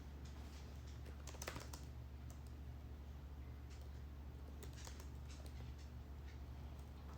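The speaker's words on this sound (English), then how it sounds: "I'm typing that out." Quiet keyboard typing, a few scattered bursts of keystrokes over a steady low hum, faint and fairly close.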